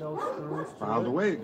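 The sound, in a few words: dogs barking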